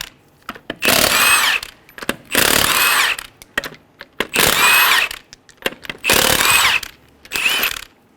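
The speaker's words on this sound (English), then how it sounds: "remove the 5 lug nuts." Power tool spinning lug nuts off a 2003-2008 Honda Pilot wheel with a 19mm socket: five loud whirring bursts of about a second each, separated by short pauses and small clicks, close up.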